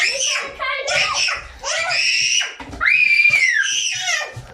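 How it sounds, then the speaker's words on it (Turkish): Children shriek loudly and repeatedly during a basketball game, with a string of high, excited screams and squeals in quick succession mixed with childish voices. "Arkadaşlar tırmınlar bir çığlık attı var ya."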